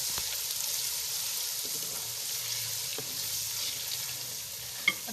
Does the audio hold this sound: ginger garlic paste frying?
yes